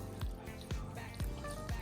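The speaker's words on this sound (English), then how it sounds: "And I am going to flood this rock wool with it." Nutrient water is poured onto rock wool, giving soft wet drips and splashes at a steady rhythm of about two per second, faint and close, with no talk.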